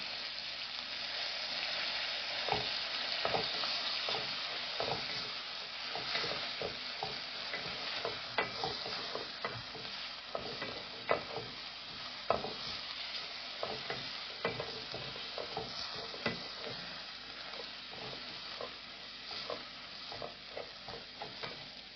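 Curry leaves fry in hot oil for a Sri Lankan fish curry, giving a steady bright sizzle with frequent crackles and pops and occasional stirring scrapes, close and continuous with no voices.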